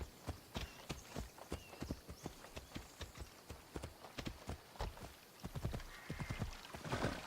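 Horse hooves clip-clopping steadily at a walking pace in the Assassin's Creed video game, close and fairly clear with a brief neigh mixed in, no talking.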